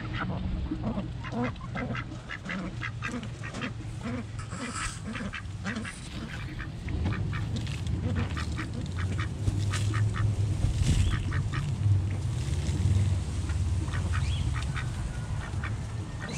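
Several ducks quack repeatedly in quick bursts, close by, over a steady outdoor background rumble.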